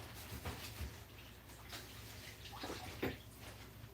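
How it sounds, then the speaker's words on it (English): Faint running water from a tap as hands are rinsed, a soft continuous splash with occasional louder splatters and drips, quiet and close with no talk. "let me rinse my hand because I've just touched the floor"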